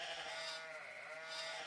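Sheep bleating on a mountain farm where around 500 sheep are herded across rough terrain, a steady wavering bleat holding through the short moment at moderate distance with no talk.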